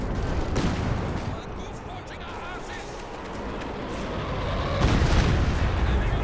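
Bombs exploding in a Company of Heroes 2 match, a dense continuous rumble of blasts and gunfire that swells louder toward the end, under a voice talking throughout.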